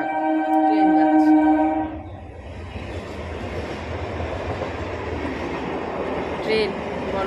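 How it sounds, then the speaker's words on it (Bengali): A train runs from Bongaon toward Sealdah in the early morning, with a brief tonal horn-like blast at first, then a steady broadband rumble of rolling carriages that holds at an even level. "ট্রেন বনগাঁ থেকে যাচ্ছে শিয়ালদা"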